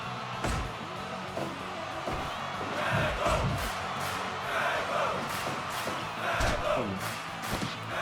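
A small crowd at a house wrestling show chants a wrestler's name in rising, rhythmic bursts, mixed with thuds and slams from the ring and occasional shouts.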